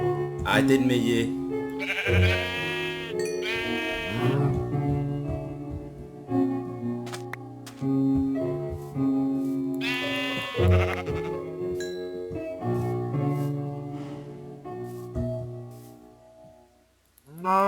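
Sheep in Minecraft bleat repeatedly over game music and background sounds, with loud, wavering cries arriving in bursts near the start and again around the middle.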